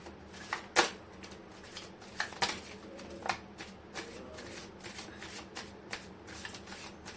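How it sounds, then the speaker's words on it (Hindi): Tarot cards being shuffled by hand, a series of crisp riffling bursts and soft slides recurring every second or so, close and fairly loud with a quiet room behind. "मैं कर लेती हूँ कार्ड की शफलिंग।"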